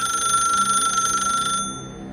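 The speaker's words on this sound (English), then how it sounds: "Then the phone rang a 3rd time." A rotary telephone in a bedroom gives one shrill, mechanical ring that holds steady for about a second and a half, then cuts off and fades into a quiet room.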